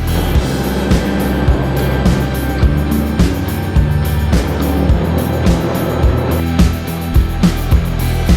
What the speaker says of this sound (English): Motorbike in the rain.